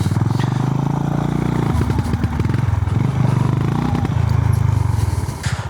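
A Honda GB 350S motorcycle rides off-road with a loud, close single-cylinder engine thump that rises and falls with throttle changes, alongside clattering and scraping from the rough ground.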